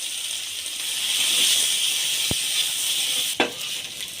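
Steady hiss of sliced eggplant sizzling in oil in a pan, with a sharp tap and a brief clatter partway through.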